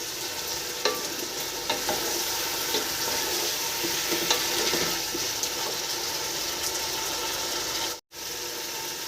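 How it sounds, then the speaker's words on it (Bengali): Chicken and potato pieces sizzle and get stirred in a hot pan, a constant bright frying hiss broken by regular scraping clicks of the spoon, close up and without talk, with a brief cut near the end. "আমার এখানে চিকেনটা ভালো করে আমি কষিয়ে নিচ্ছি।"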